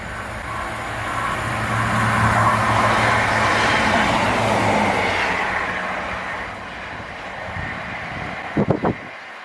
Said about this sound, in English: the barriers are going down, so there's a train coming